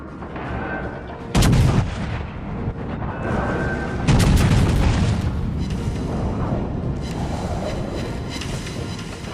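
Scharnhorst battleship main guns firing in World of Warships Legends: two heavy booming salvos about three seconds apart, loud and close, each trailing into a rumbling low roar that persists to the end.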